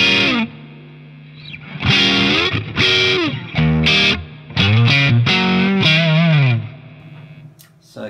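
Electric guitar played through a Diezel Schmidt amp with reverb, loud sustained chords and sliding notes in bursts, each ringing out with a spacious reverb tail.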